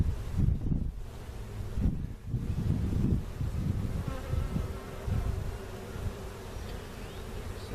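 Honeybees buzz in a nuc hive as a close, steady drone, with wind noise in the microphone and some rustling handling sounds.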